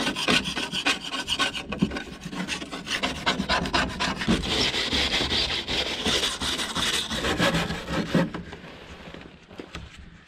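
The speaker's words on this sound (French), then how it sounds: "Le fait de gratter, ça soulève des microparticules de fibres." Fibreglass part being scraped clean of dirt and grime before painting, a continuous rough rasping and rubbing that stays close and loud for the whole stretch with no talk.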